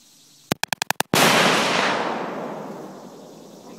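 A DPMS Panther .308 rifle bump-fired outdoors: a rapid string of six sharp, loud shots, then a final blast whose wide roar rings and decays slowly over several seconds.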